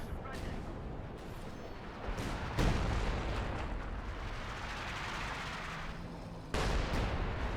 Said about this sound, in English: Sexton not done with its barrage yet, but doing nothing besides hitting the ground.